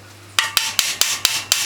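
Six sharp metallic hammer blows on a sheet metal folder ring out at a steady rhythm, close by, each strike bright and clanging with a brief tail.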